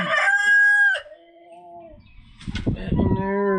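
A rooster crows loudly and close among backyard chickens, Buff Orpingtons and barred rocks, followed by a second drawn-out crow with a burst of clucking in between.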